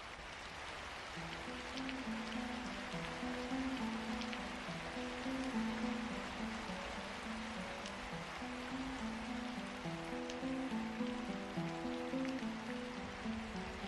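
Steady rain patters on surfaces in a constant hiss, with soft melodic tones drifting underneath throughout.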